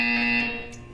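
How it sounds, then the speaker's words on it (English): A Portal 2 test-chamber buzzer sounds once, a loud steady electronic tone that holds and then tapers off as it ends. "When you hear the buzzer, stare at the art."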